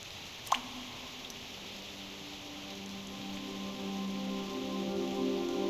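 Rain falls in the video game Reverse 1999, a steady soft patter that starts with a brief sharp drop sound and slowly grows fuller over several seconds, with a faint tonal hum underneath.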